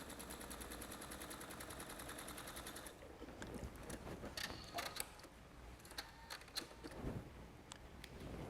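A sewing machine chain-stitches quilt half square triangles, a fast, even mechanical rattle for about three seconds that gives way to quieter clicks and handling noise, no talking.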